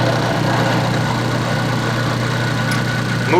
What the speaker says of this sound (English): Switch on the drill